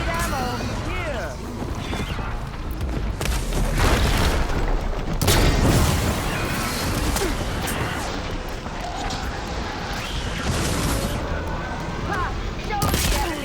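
Gunfire in the Horizon Forbidden West video game, a sustained barrage of shots and booming impacts with occasional crashes, rising and falling in intensity while voices talk over the fighting.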